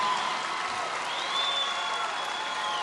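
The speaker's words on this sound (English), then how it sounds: "that always gets like the biggest applause" A Trump campaign rally crowd in battleground Arizona breaks into steady, sustained applause, a dense wash of clapping with some crowd noise throughout.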